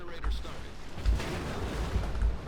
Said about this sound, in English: That was a big hit from a battleship.